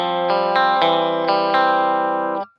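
Electric guitar played through a Kemper Profiler on a Friedman amp profile with the treble turned up, sounding bright and distorted as several strummed chords ring out and decay, with no one talking.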